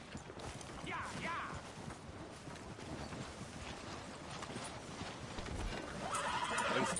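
A horse in the video game Red Dead Redemption 2 whinnies loudly near the start and again near the end, with clip-clopping hooves throughout and voices talking over the game sound.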